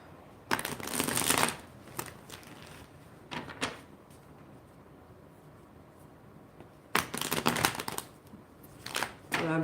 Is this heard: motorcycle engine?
no